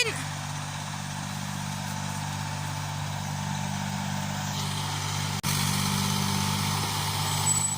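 A tractor engine strains steadily on a rain-soaked slope among olive trees, its deep mid-pitched drone running continuously with a brief dip partway through as the wheels lose grip.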